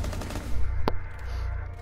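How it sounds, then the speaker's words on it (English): Rapid automatic gunfire rattles from the tactical shooter video game Rainbow Six Siege, a dense close burst with one sharp crack standing out near the middle. "You're shooting at your teammate."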